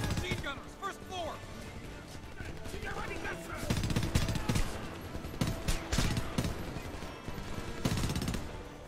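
Sustained machine gun fire in the first-person shooter Homefront, heavier bursts from about four seconds on, mixed with other battle noise and overlapping someone speaking throughout.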